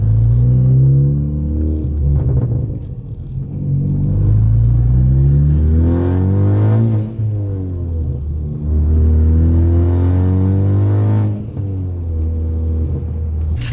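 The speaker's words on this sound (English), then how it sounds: "I'm gonna show you guys what this car really sounds like when I'm pushing it." A modified front-wheel-drive car with upgraded power, driven hard on California roads, its engine rumbles loud and close through repeated hard pulls, the pitch climbing with each gear before dropping at the shifts.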